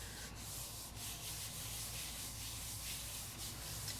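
Stamped paper being rubbed on its back by hand after pressing, with ink from a crafting stamp, a continuous close, dry scrubbing friction that stays steady and fairly quiet throughout.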